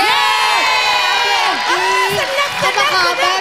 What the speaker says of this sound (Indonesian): Tepuk tangan untuk Oki Lukman.